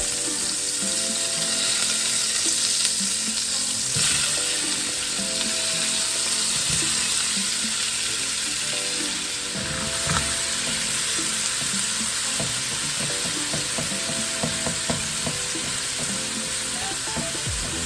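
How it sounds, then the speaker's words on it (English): Mushrooms and onions sautéing in a pan while making a Salisbury steak dinner give a steady, close sizzle. Clinks and scrapes of a utensil stir through it, with no talking. "Saute our mushrooms and our onions a little bit."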